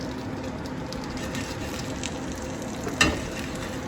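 Steady sizzling and crackling of steak searing in hot oil, close and continuous, with a brief louder pop near the end.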